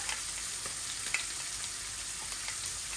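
Bay leaf and five-spice seeds (panch phoron, fenugreek) crackle in hot oil in a pot, a steady close sizzle with small pops throughout.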